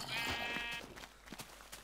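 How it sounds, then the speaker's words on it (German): A black sheep in the video game Minecraft gives a short, clear bleat, followed by faint game sounds and brief quiet noises. "Wir können uns lieber mal das schwarze Schaf holen."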